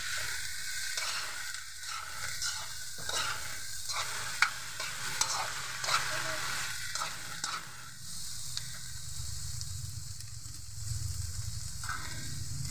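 Shrimp paste and bitter gourd sauté in a pan, giving off a steady, close sizzle broken by scraping stir strokes and a few sharp clinks of a utensil against the pan. No one speaks.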